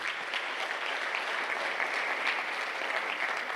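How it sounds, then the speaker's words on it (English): Conference audience applauding after a healthcare presentation: a continuous, uniform patter of many hands at moderate volume, steady and unbroken for several seconds with no talk over it. "A round of applause."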